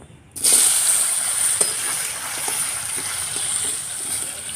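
Pieces of pumpkin drop into a pan of hilsa fish head curry and set off a sudden, close sizzle that keeps hissing steadily, with a few light clinks.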